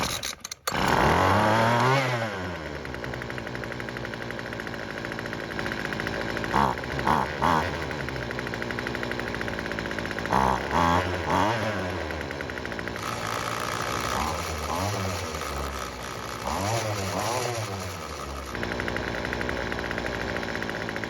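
A weed eater string trimmer engine catches and runs, its small two-stroke buzz loud and close, surging through repeated revving bursts between steadier idle stretches, with no talk.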